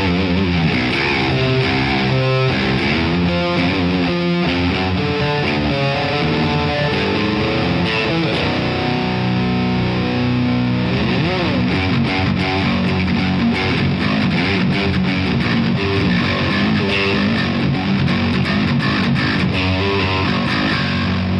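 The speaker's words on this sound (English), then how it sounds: "Now I'm going to go to the position with these two pickups" An Ibanez TAM100 electric guitar, heavily distorted on two pickups, plays a continuous riff with sustained, gritty chords and quick note runs, loud and dense throughout.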